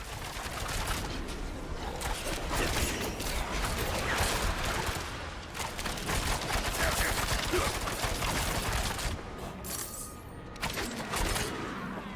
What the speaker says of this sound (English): What's shooting at me up here?